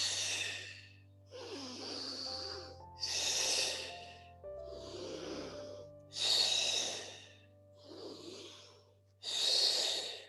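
Deep, audible breaths taken during a vinyasa yoga flow, a series of about seven loud breathy inhales and exhales in a steady rhythm, close to the mic, with faint background music.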